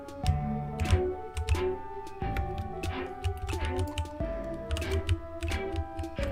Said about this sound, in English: I have a mechanical keyboard, which does have a pleasant clicky sound